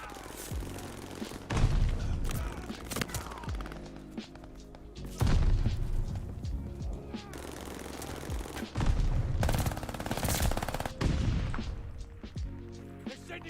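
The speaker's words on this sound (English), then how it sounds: "They're sending mortar shells." Video game combat with incoming mortar shells and gunfire: bursts of rapid shots and heavy booms come and go in loud waves, with a voice talking faintly underneath.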